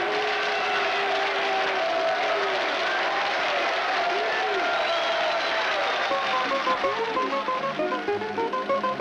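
Audience clapping in a scene from the 1949 Soviet musical comedy film Kubanskie Kazaki, a dense, steady wash of applause that runs the whole stretch, with voices and singing layered over it.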